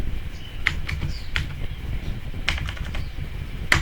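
Someone types on a computer keyboard while building a spreadsheet in Microsoft Excel, producing a few sparse, separated key clicks over a low background hum.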